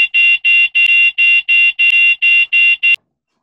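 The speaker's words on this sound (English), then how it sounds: "alarm goes off" A loud electronic alarm beeps in a steady rhythm, about ten bright, even pulses in three seconds, each sharp tone cutting off cleanly before the next, then abrupt silence.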